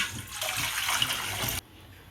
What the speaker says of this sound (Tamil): இப்போ அடுப்பில் ஒரு பாத்திரத்தை வச்சு கொஞ்சம் தண்ணி சேர்த்துக்கலாம்